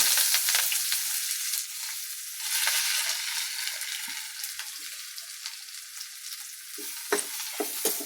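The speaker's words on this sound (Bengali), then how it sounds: "এখন আমি রসুনগুলা দিয়ে দিব, তারপরে পেঁয়াজ দিচ্ছি" Garlic and onion frying in hot oil in a pan for a bitter gourd (karela) dish, a steady loud sizzle with occasional stirring scrapes throughout, no voices.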